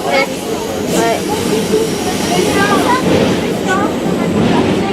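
Paris RER commuter train heard from inside during a ride, with a steady loud rumble and hiss of the carriage running throughout while people talk over it.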